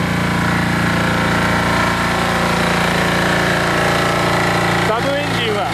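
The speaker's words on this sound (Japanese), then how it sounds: "サブエンジンはヤンマー製ディーゼルエンジン" Yanmar diesel sub-engine running steadily on a Hino Dutro water sprinkler truck with a 4,000-litre tank, a continuous loud mechanical drone throughout, with a brief shift in tone near the end.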